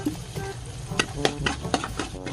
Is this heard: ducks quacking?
no